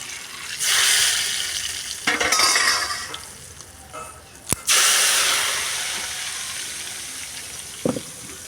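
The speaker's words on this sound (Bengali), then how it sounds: "ফোড়নটা দিলাম কড়াইতে, আস্তে আস্তে ঢেলে দিচ্ছিলাম" Bengali spice tempering poured slowly into a hot wok, bursting into loud hissing sizzles that swell and fade in several waves, with a brief sharp crackle midway and a small pop near the end.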